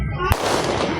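A Christmas firecracker goes off with one sharp, close bang followed by a rough, decaying rumble, amid outdoor noise.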